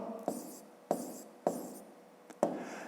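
Writing numbers by hand for a subtraction exercise, with four sharp taps of a pen or chalk followed by short scratchy strokes, close and faint, with no talking.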